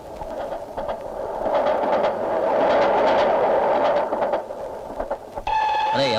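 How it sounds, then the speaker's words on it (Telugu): A train pulls into a station with a building mechanical roar and rumble that swells and then eases, followed near the end by a sudden ringing, bell-like tone. "అయ్యో రైలు వచ్చేస్తుంది"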